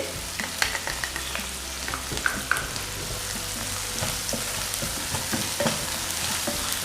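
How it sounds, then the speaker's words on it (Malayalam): Sliced onions frying in hot oil for mushroom masala, a steady close sizzle with occasional scraping and stirring clicks throughout, no talking. "ഓയിൽ ചൂടാകുമ്പോൾ അതിലേക്ക് സവാള കട്ട് ചെയ്ത് ഇട്ട് കൊടുക്കാം."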